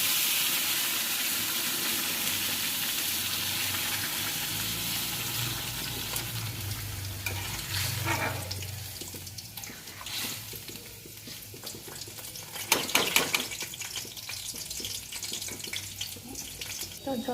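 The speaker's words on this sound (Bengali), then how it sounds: "তো এখন জল দিয়ে দিলাম।" Water poured into a hot frying pan while cooking an Ekadashi meal, first a loud steady sizzle and rush that dies down, then softer crackling with a few sharp clatters near the end.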